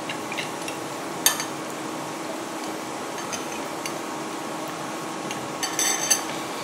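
Chicken Manchurian ingredients are mixed in a bowl, with a utensil scraping and occasional light clinks and taps against the bowl over a quiet, steady kitchen background.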